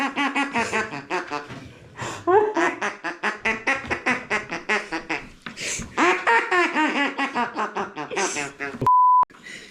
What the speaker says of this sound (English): Real duck call here, ladies and gentlemen.